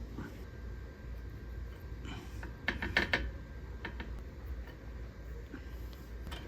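A bolt being tightened by hand on a Nissan GTR, a few faint ratcheting clicks clustered in the middle against a low steady background hum, quiet and close, with no talking.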